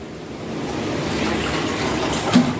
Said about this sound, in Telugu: ఇంకొద్దిగా వాటర్ పోస్తున్నా ఫ్రెండ్స్